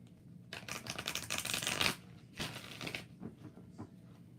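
Tarot cards shuffled by hand during a live reading, two bursts of dense riffling and slapping, the first longer, followed by a few softer taps and shuffles at close range.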